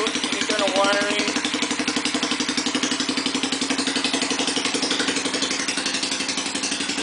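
Kikker 5150 HardKnock 200 minibike engine running steadily at idle with a rapid even putter and clatter, close and continuous, a brief rev near the start.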